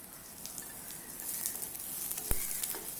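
Shallots and garlic sauté in oil for a spicy garlic chutney, making a soft, even sizzle that rises slightly partway through, with an occasional light stirring knock and no voices.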